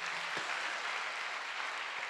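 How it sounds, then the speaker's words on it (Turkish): Applause from the audience at a live Turkish folk music and poetry broadcast event, a steady dense clatter of clapping filling the whole moment at moderate level, with no talk over it. "Erol'a da bir alkış."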